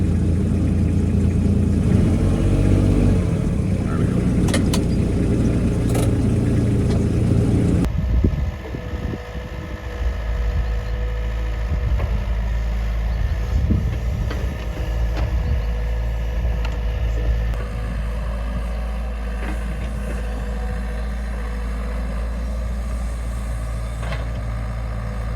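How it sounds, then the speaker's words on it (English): A Kubota utility vehicle engine runs steadily while driving over wet ground, a constant low drone with rattles. Partway through, the drone shifts to a smoother, quieter hum, and no one talks. "I'm just driving up here on the ATV thing, the gator here. Well, actually not a gator, what is this thing? Kubota."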